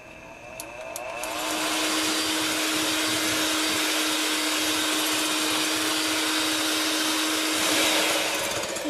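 A kitchen blender whirs at its top speed through a thickening frozen mixture containing xanthan gum, a loud, steady high-pitched roar that starts after a moment and holds for the rest of the stretch.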